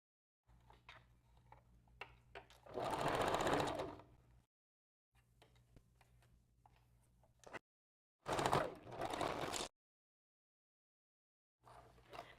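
Sewing machine back-stitching a wig unit, two loud bursts of rapid mechanical stitching close by, separated by quieter handling sounds and pauses.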